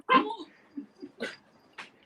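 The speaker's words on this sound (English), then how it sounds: "2 dogs on my bed playing" Two dogs playing together on a bed, giving a few short, soft whimpering yips and grunts in quick bursts, close by.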